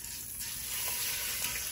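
Steak sizzles as it browns in hot oil, a steady close frying hiss with faint crackles throughout the short moment.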